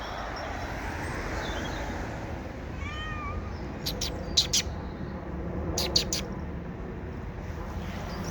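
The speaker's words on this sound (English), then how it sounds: "There's a few birds about. Robin, might be blue tit and great tit." Garden birds, including a robin, blue tit and great tit, give faint, brief chirps and short song phrases in a few scattered bursts over a low outdoor background hum.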